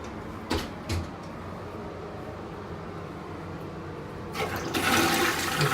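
A toilet flushes nearby in a home bathroom, with a steady rush of water and a louder surge near the end, plus a couple of faint knocks early on.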